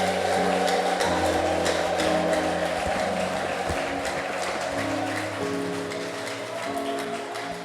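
Church congregation applauding continuously in dense, steady clapping that fills the space, with layered voices and sustained tones underneath, presumably ululation mixed into the crowd noise, holding strong then easing slightly toward the end.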